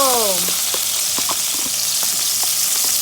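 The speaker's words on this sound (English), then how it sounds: "When the sofrito hits the oil, smells so good." Sofrito hits hot oil in a pan while Spanish rice is being made, giving a loud, continuous sizzle close by. Brief voice fragments and light utensil clinks sit underneath it.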